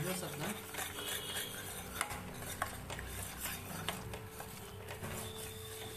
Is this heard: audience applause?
no